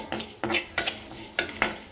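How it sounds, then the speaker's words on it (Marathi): Coriander and cumin seeds dry-roasting in a hot kadhai, a metal spatula clinking and scraping against the pan in a few quick, separate strokes, close and clear. "तर धने आणि जिरे हे आपल्याला फक्त 1 मिनिटच आपल्याला हे परतून घ्यायचे आहेत"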